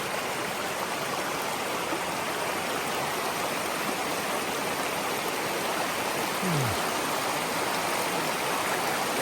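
Creek water at Gold Brook rushing steadily and close by along a trail crossing, a dense continuous broadband wash with no pauses and no voices.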